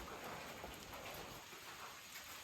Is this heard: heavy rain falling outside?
yes